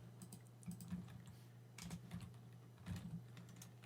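A search is typed on a computer keyboard in quick, soft clusters of keystrokes with short pauses between them, over a low steady hum and with no talking.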